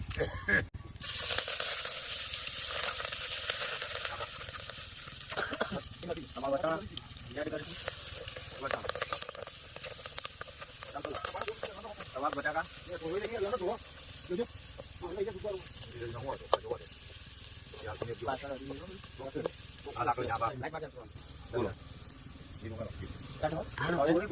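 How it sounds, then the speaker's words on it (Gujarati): Whole spices sizzle in hot oil for Girnari khichdi, a steady frying hiss with crackling bursts running under a voice speaking Gujarati throughout. "હવે તેલના અંદર આખો મસાલો નાખવામાં આવશે."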